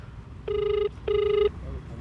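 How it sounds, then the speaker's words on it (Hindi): Two evenly spaced ringback tones of an outgoing telephone call, each lasting about half a second, clear over a low murmur of background noise. "देखिए हमारे समक्ष वो जो है फ़ोन मिला रहे हैं अभी"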